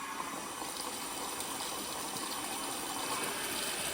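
Tank water runs steadily from a tap onto a tiled floor in an old French château, a continuous close hiss and splash with no pauses or talk.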